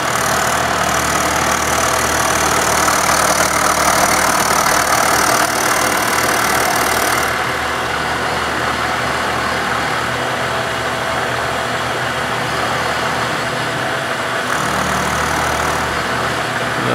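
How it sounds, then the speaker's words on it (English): A milling machine climb-mills a custom banjo part with a continuous loud, dense whirring roar that eases slightly partway through and then holds steady. "We're gonna climb mill this so we don't get any chip out."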